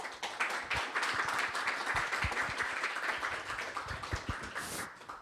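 An audience at a security roundtable session claps to welcome a speaker, giving a close, sustained round of applause with sharp individual claps that thin out near the end.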